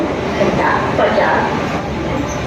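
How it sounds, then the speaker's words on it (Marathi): A loud, continuous rumbling roar of a train close by, with people's voices faintly mixed into the din. "ट्रेन आली आहे ह्या साईडनी."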